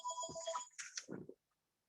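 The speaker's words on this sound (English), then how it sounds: "Sorry, turn off that phone." A mobile phone ringtone plays loudly at a talk about women and the UN, a repeating electronic tone with a brief musical flourish lasting about a second and a half before cutting off into silence.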